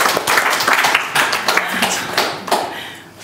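A studio audience at a Russian television quiz show applauds with dense, steady clapping that stays fairly loud throughout, with no talking over it.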